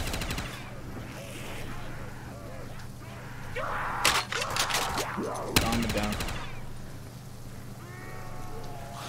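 Gunfire in Warzone Zombies rattles out in short, sharp bursts among zombie groans and game noise, loudest in the middle and fairly close.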